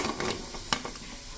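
A brief burst of oil sizzling as paneer fingers deep-fry, with a couple of soft clinks and stirring sounds over the steady frying hiss.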